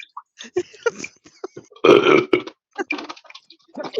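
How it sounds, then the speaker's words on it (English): A loud, close burp breaks out among scattered small clicks and brief noises, standing alone without speech. "I knew there was a burp in there too"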